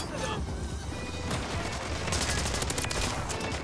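Rapid automatic gunfire in Modern Warfare 3 pours out in a steady, loud stream, with a sharper, faster burst of shots toward the end.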